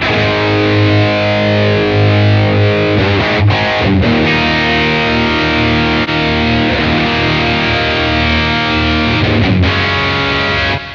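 A heavily distorted electric guitar through a Blackstar AMPED 1 amp pedal plays sustained chords and ringing notes with a gritty, saturated amp tone and a touch of reverb, loud and continuous.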